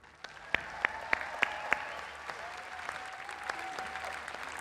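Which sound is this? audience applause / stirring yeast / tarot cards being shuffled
audience applause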